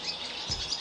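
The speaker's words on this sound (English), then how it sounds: "It is the swallow, yeah. It's a beautiful, it's a really chattery, beautiful little call." Barn swallow calling in a short burst of chattery, high chirps, fairly faint and alone with no talk over it.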